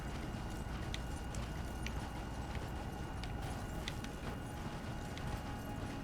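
Hooves of a horse in the video game Elden Ring clip-clop in a steady trotting rhythm over a rumbling background, moderately close and fairly quiet.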